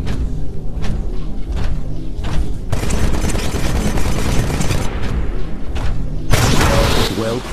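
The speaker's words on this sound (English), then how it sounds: "This weapon absorbs incoming ballistics for a limited time, then refires them" A Titan's Vortex Shield in the Titanfall training mode absorbs incoming bullets, then refires them, producing a loud, dense burst of gunfire with heavy booms and thuds that swell and intensify toward the end.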